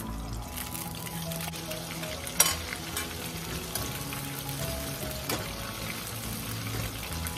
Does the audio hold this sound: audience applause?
no